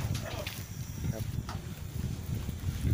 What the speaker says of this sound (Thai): ลมแรงนะครับวันนี้